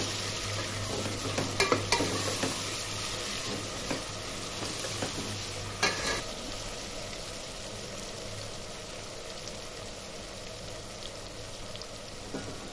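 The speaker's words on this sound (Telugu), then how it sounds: "ములక్కాయలు కూడా వేసుకుందాము. ఇవి కూడా బాగా వేగనిద్దాము, కాసేపు మగ్గనిద్దాము." Drumstick pieces for sambar frying in a pan, giving a steady soft sizzle with occasional stirring scrapes and clinks near the start and around six seconds, with no talking.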